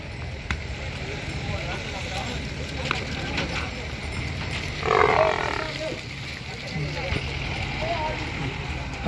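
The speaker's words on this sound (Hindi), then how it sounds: "देख रही हैं भैंसें कितना मुश्किल होता है भैंस को उतारना" Heavy Murrah buffaloes being unloaded at a busy livestock market in Ashoknagar, Madhya Pradesh, with one brief low animal call midway over constant crowd murmur, shuffling and distant voices.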